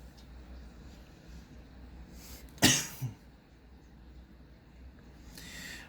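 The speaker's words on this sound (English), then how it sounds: "My apologies for the little cough every so often." A single sharp cough sounds close by, followed by a smaller second hack, over a quiet low background hum.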